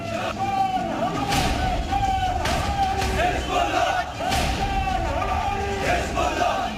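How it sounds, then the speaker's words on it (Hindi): Protest crowd in Lucknow chanting slogans in support of Hezbollah after Nasrallah's killing, a dense, loud mass of shouting voices with rhythmic surges of chanting over continuous crowd noise. "हिजबुल्लाह के समर्थन में भीड़ ने नारे भी लगाए"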